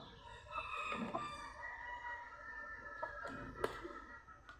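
Chickens cluck and murmur nearby, with a rooster crowing partway through and a few sharp clucks toward the end.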